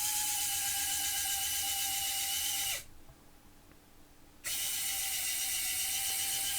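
The motor of an RC Komatsu PC400 excavator, powered through a step-up converter, runs with a steady mechanical whine, cuts out for under two seconds, then starts again at the same level.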